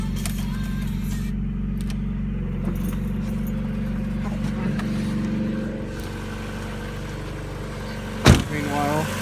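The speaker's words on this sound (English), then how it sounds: "may as well start the car and find out about the other problem with the smell" A Mazda Miata engine turns over and settles into a steady low rumbling drone, with a sharp loud burst near the end.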